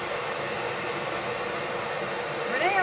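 A cordless Ryobi battery-powered dryer blows a steady, close airy whoosh while drying a craft gnome, the hiss continuing throughout with a faint squeak near the end.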